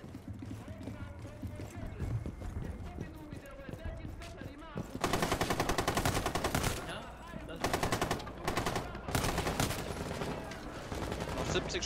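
Rapid automatic gunfire crackles in the video game Rainbow Six Siege, in long close bursts separated by short pauses, with quieter game sounds and some talking in between.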